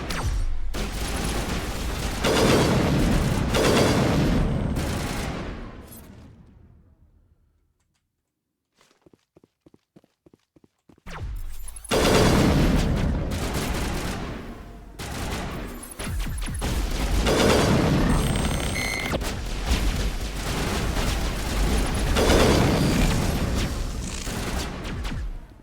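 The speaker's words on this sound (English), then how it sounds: "Where are they still shooting?" Sustained gunfire and explosions from a Mass Effect battle against Geth, loud and dense, cutting out to near silence for a few seconds with faint ticking before the heavy shooting resumes and continues to the end.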